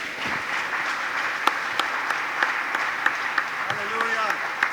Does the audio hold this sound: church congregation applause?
yes